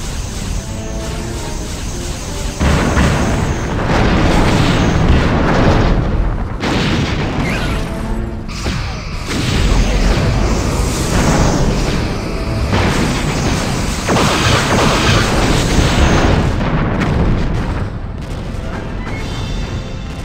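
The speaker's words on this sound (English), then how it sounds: "Simulated enemy ship has been destroyed." Loud booms and explosive bursts from enemy ships blowing apart in a Star Trek space battle game pitting an armored Voyager against Borg cubes, repeating through a dense, continuous barrage.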